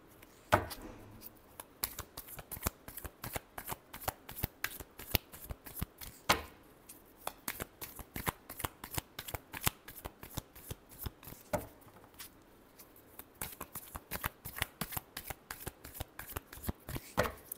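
Tarot cards shuffled by hand, close and alone: rapid riffling bursts and flicks in repeated runs over about seventeen seconds, with brief pauses between rounds.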